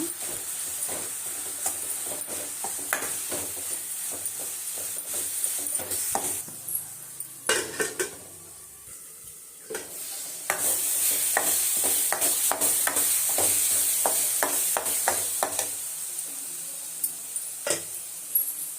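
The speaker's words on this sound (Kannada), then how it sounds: "ಅರಶಿನ ಇದ್ದೀನಿ ಒಂದು ಅರ್ಧ ಚಿಲ್ಲಿ ಪೌಡ್ರು ಧನಿಯಾ ಪುಡಿ ಚೆನ್ನಾಗಿ ಫ್ರೈ ಮಾಡ್ಕೊಳ್ಳೋಣ" Turmeric, chilli powder and coriander powder fry in a pan for an egg gojju, a soft hiss under repeated scraping stirs and utensil clinks, with a brief pause before the sizzle swells louder again.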